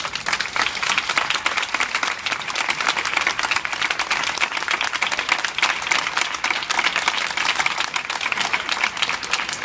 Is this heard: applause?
yes